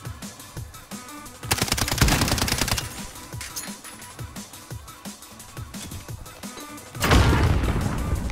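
In Call of Duty Modern Warfare, steady automatic gunfire rattles along, broken by two loud booming bursts, one early and one near the end, that fit a grenade explosion.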